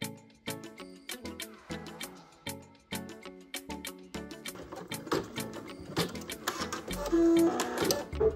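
An embroidery machine stitches an in-the-hoop glass slipper keychain, producing rapid, regular mechanical needle clacks with a rhythmic whirring pulse, close and fairly quiet, running continuously with slight changes in pace.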